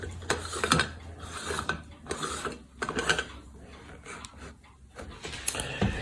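A stovetop coffee maker's upper chamber twisted shut onto its base over the gasket, giving a few close ratcheting scrapes and a small click, with a sharper snap near the end and no talking.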